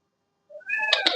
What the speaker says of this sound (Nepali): यो चाहिँ बिरालो बोर्डिङ हाउस।